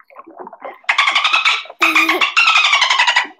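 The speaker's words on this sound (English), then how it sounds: "This is a dolphin's call." A dolphin call of rapid high chirps and whistling trills in several bursts, loud and close with short pauses between, with no talk over it.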